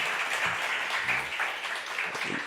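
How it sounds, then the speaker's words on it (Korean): Congregation giving welcome applause during an early-morning church service, a steady wash of many hands clapping for a couple of seconds at moderate loudness, with faint low sounds beneath. "우리 환영의 박수 한번 하겠습니다."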